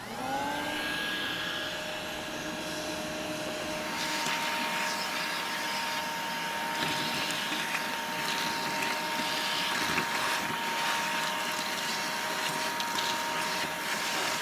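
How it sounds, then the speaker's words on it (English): A shop vac runs steadily while sucking ash out of a Big Green Egg MiniMax ceramic grill through an ash filter fitting, a sustained whining motor drone with a hollow airflow rush that shifts in pitch as the nozzle moves. "Now, we've got this part all vacuumed out"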